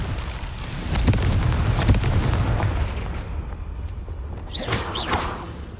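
A Confringo fire spell from Hogwarts Legacy bursts into booming, rumbling explosions with crackling debris, loud and sustained, followed by a couple of sharp whooshing impacts near the end.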